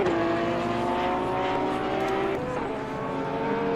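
A Porsche race car engine in a sim racing game, loud and continuous, holding a high steady whine that shifts pitch slightly as it passes, with no talking.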